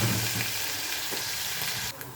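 A large spoonful of garlic sizzling in a pot of oil for koshari tomato sauce, a close, steady crackling fry with a light stir partway through.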